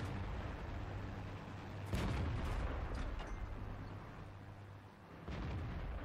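World of Tanks FV4202 (P) tank cannon fire: a few heavy booming shots with a sharp crack at the onset, over a constant engine rumble.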